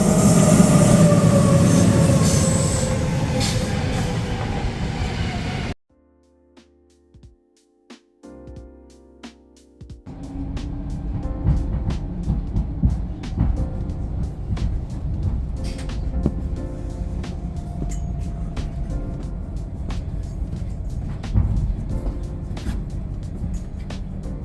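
A train in Zurich, Switzerland rumbles loudly along the rails, fades into near silence with faint tones, then returns with rhythmic clicking and clacking of wheels over the tracks.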